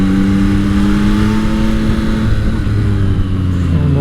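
A 2024 Yamaha MT-09 SP motorcycle engine runs at low revs in a higher gear, a steady, close, throbbing rumble holding even with a slight dip near the end.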